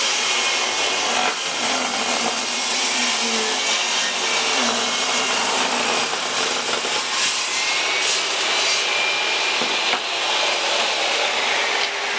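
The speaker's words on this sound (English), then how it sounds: "Okay, so I've cut the board." A SawStop jobsite table saw whines loudly as it cuts through a board, its pitch shifting under a constant dust collection vacuum hiss, with no talking.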